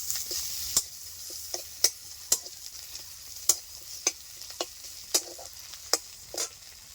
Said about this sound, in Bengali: শীতল মাছটাকে আমি এখন ভেজে নেব